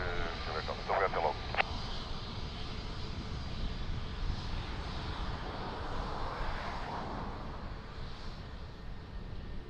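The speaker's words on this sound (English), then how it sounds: "EasyJet flying to Funchal, Madeira." An EasyJet airliner bound for Funchal, Madeira, takes off at Lisbon Airport, its jet engines giving a steady, fairly distant broadband roar, with a brief voice-like burst near the start.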